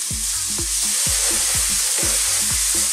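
Steady, close sizzling of onions frying in a pan, with repeated scraping strokes of stirring throughout.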